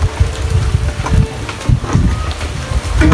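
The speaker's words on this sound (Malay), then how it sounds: "Hujan guys, hujan." Rain falls outdoors in a steady broadband patter, with low gusts of wind buffeting the microphone throughout.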